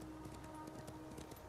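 A horse's hooves clip-clop at a steady pace in the video game Ghost of Tsushima, quiet and rhythmic over a constant background.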